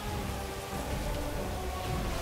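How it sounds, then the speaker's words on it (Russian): Rain falling in the video game Dark Souls 2, a continuous even hiss of dense drops with no pauses and no talk over it. "Здесь опять же идет дождь"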